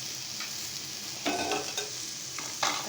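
Spices frying with cumin powder in a pan for a layered singara filling, a steady low sizzle broken by a few louder scraping stirs around the middle and end, heard close with no speech.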